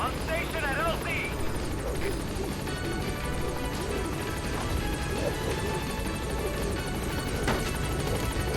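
Pequod helicopter arriving in Metal Gear Solid V: The Phantom Pain, a steady loud rotor and engine roar filling the whole stretch, with brief radio-style chirps near the start.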